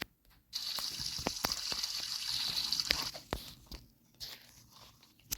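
Running water from a shower in the Brookhaven RP video game sprays as a steady hiss lasting several seconds, then stops amid scattered clicks and taps.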